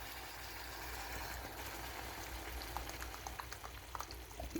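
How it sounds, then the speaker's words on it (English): Cream poured into a simmering pasta sauce on the stove, a steady low bubbling hiss with small liquid splashes and spatters growing toward the end, close and fairly quiet, no talking. "time to pour in the cream"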